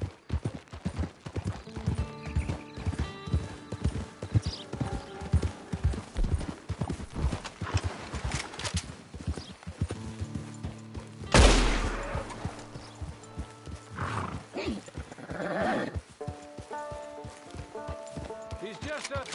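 Horse hooves clip-clopping steadily in Red Dead Online, a fast galloping rhythm with a neigh, gunfire bursts and background voices over the ride.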